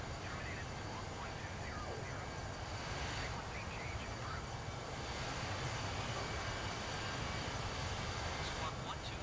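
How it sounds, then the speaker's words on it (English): A319 jet engines scream steadily in Microsoft Flight Simulator 2020, a continuous loud roar filling the whole stretch without breaks or pauses. "these engines are fucking screamers. These things scream."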